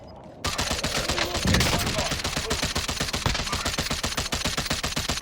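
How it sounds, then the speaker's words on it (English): Rapid automatic gunfire in the video game Warzone, a loud sustained burst of evenly spaced shots that runs almost without pause after a brief quiet start. "I think we fired at him enough there, guys."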